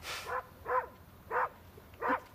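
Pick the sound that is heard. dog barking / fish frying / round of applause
dog barking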